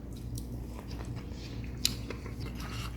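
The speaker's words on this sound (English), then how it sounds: "So I'm gonna try these Brussels sprouts, guys." Someone chews smoked Brussels sprouts cooked with sausage, slightly hard, with soft close-up bites, squishes and one sharp crunch over a low steady background hum.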